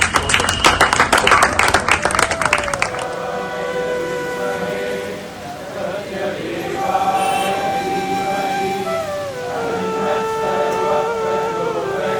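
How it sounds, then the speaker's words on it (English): Audience clapping at a devotional gathering in Ulhasnagar and Thane, Maharashtra: dense rhythmic clapping for about three seconds, then fading under music and room sound. "they will continue with your big clap."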